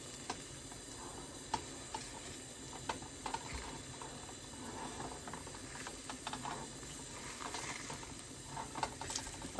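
A pork chop fries in a pan for a simple breakfast, giving a low, steady sizzling hiss with small ticking pops scattered throughout, faint and continuous with no talking.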